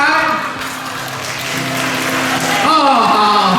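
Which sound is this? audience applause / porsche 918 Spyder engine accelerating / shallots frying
audience applause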